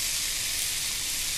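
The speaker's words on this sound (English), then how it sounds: "I like that sizzle" An onion and spice mixture fries in a hot pan for a Mexican-style rice dish, giving a loud, steady, bright sizzle that fills the whole moment without any talking.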